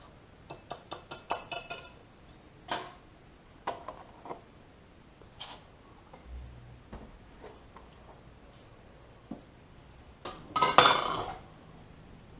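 A spoon clinks against a glass or ceramic bowl while biscuit ingredients are stirred together: sharp, close taps in quick bursts, then scattered knocks and a final louder flurry of scraping and clinking.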